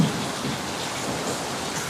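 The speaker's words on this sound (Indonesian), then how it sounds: "Oke, kalian bisa lihat sendiri tuh kalau hujan." Steady rain pouring down outdoors in an Indonesian street, an even, dense hiss of drops hitting surfaces with no gaps or voices.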